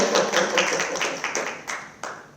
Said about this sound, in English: we should give an applause for that